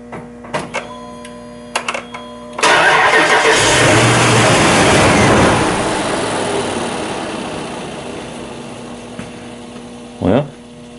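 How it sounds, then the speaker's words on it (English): A car engine cranks on a jump starter battery after a few clicks, catches and roars loudly into a fast idle that gradually settles, followed by a brief sharp sound near the end. "let's try to crank it"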